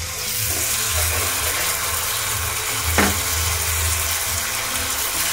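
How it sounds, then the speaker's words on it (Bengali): A large pomfret fish frying in melted butter over high gas, with a steady close sizzle and a brief sharp clatter partway through. "এবার এটা খুব ভালো করে আমাকে ফ্রাই করতে হবে এই বাটারের মধ্যেই"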